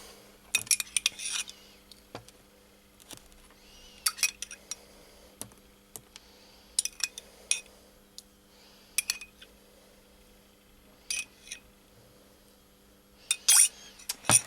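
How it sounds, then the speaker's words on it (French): A small spoon clinking against a glass of water, several light, bright taps spread across a quiet room, close and separate, with no talking. "donc on va prendre de l'eau, donc dans une petite cuillère, hein, voilà, un verre d'eau, une petite cuillère"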